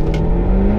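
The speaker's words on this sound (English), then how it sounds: "The sound and oral note from this car just makes me want to go faster and faster and faster." Jaguar F-Type Coupe AWD R engine revving, a loud, continuous close-up engine roar with a rising tone.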